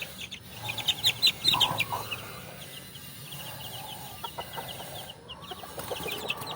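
Pet chicks in a cage give high, thin peeping chirps in scattered bursts, close and moderately loud, over a low rustling background with no talking.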